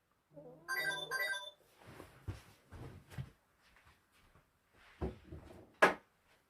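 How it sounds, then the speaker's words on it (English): A mobile phone ringtone plays a short, bright melodic burst near the start, then gives way to scattered knocks and clatter. "That's my phone going off"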